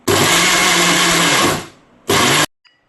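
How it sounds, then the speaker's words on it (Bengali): A mixer grinder whirs loudly while pasting small chicken pieces, running in a long, steady burst that winds down, then a second short pulse before silence. "এবার এই চিকেনটাকে আমি কি করব, একটুখানি মিক্সিতে একটু পেস্ট করে নেব।"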